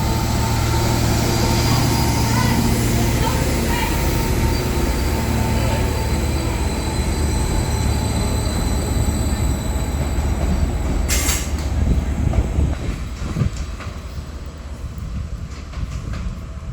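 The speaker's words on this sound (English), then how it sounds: "As the Class 756 also leaves for Cardiff." Class 756 train pulling out of Cardiff Central station, a loud, close, sustained rumble of engine and wheels with screeching squeals rising toward the end as it moves off.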